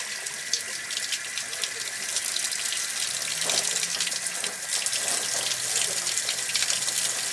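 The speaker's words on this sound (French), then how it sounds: "Fait que là, le chauffe-eau est en train de se vider." Water heater draining through an opened safety valve, a steady hissing rush of flowing water that continues unbroken at moderate level, with a faint voice in the background.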